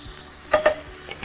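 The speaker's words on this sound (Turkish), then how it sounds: "Soğanlar da yavaş yavaş pişmeye başlasın" Two quick scraping stirs of frying onions in a pan over a low sizzle, followed by fainter clinks, close and with no voices.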